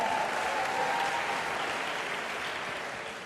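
Applause and cheering from the audience at the Miss Gibraltar 2019 pageant, a dense, steady clapping wash from a large crowd that slowly begins to fade toward the end.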